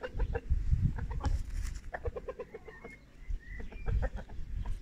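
Several chickens, including roosters, cluck in short, choppy bursts, fairly close, with occasional higher squawks and rustling; no one speaks.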